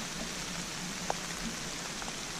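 Steady rain falling on a dirt road, an even hiss of moderate loudness throughout with occasional faint drops standing out, no talking.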